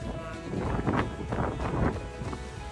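Gusty wind on the California coastline buffets the microphone in rough, rising and falling blasts, loud and close, with no clear voices.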